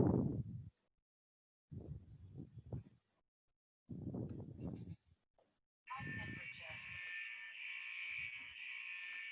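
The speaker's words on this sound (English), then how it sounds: "so the device will trigger the alarm" A temperature screening device sounds a steady electronic alarm buzzer after its threshold is set low, a sustained tonal beeping that follows several bursts of talk.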